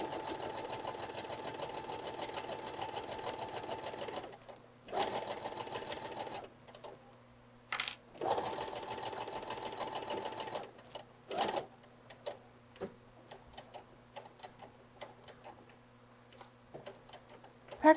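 A domestic sewing machine stitches in bursts on a fun summer outfit, running steadily, pausing, then reversing for back stitching, with scattered ticks and clicks of the mechanism between runs, close and alone.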